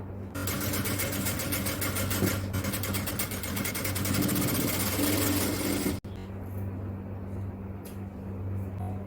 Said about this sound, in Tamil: தைக்கும் போது கொஞ்சம் கொஞ்சமா தைக்கணும். அப்பதான் அந்த பைப்பிங் கரெக்டா வரும்.